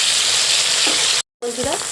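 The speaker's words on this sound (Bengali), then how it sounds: "ভালো করে দুদিকটা সুন্দর করে ভেজে নেব" Katla fish pieces fry in hot oil with a constant loud hiss and crackle, cut by a brief silent gap before the sizzle resumes with a faint voice underneath.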